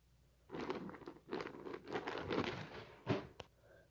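Crinkling and crunching of a pretzel cracker snack bag being grabbed, in several loud rustling bursts at close range, with no talk.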